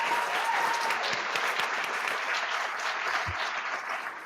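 Room applause at a school district regular board meeting, sustained clapping from a seated group, moderately loud and even, with no speech over it.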